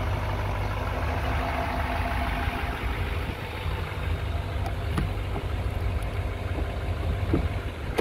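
A 2017 Chevrolet Silverado 2500 HD idles steadily after a remote start, a continuous low engine rumble held at an even level throughout, close by and with no talking.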